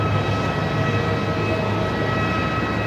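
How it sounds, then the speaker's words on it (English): A Boeing 747 airliner on the move at Melbourne Airport gives a steady, unbroken engine roar with a high whine running through it. The sound is constant over the whole stretch, with no voices. "Oh, here we go, the 7-4's on the move."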